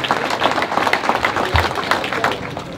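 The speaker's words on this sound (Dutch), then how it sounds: "Graag jullie applaus voor deze helden." Audience applause for heroes at a Dutch event, a loud, dense stretch of clapping from a crowd with a brief low thump partway through.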